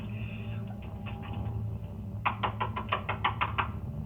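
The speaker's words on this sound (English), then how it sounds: "pounding her hand against the door" A hand pounds against a door in a quick burst of about a dozen knocks over a low background hum, faint and somewhat muffled.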